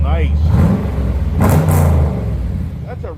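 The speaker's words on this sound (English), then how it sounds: "Let's hear the Camaro SS 2010 before and after exhaust note" A 2010 Chevrolet Camaro SS engine revs hard and roars, with a deep rumbling exhaust note that swells and holds steady, loud and close.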